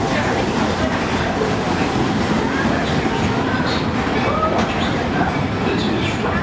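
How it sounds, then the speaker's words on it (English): Disney's steam train No. 3 "Roger E. Broggie" rolls into Frontierland Station, a close, continuous rumble with wheel clatter and faint squeals heard from aboard, under a conductor's announcement. "We've reached Frontierland Station, everyone, so sit tight until we come to a complete stop."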